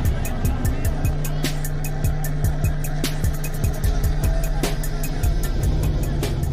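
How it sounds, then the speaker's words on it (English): A big-rim donk car revving hard and accelerating off the line at the start of a street race, a loud continuous engine drone with rising revs and rhythmic pulsing, close and dominant throughout. "Donkmaster starts the race by hitting the gas."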